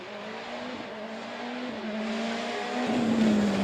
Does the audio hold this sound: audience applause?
no